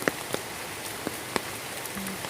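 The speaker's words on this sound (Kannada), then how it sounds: "ಜೋರುಂಟು ಮಳೆ" Heavy rain pours steadily outside a house, a dense, continuous hiss broken by occasional louder drips and knocks close by.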